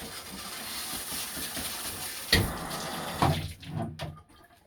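Water runs from a shower head in a steady, fairly quiet hiss, with a couple of brief splashes before it tapers off, and no talk.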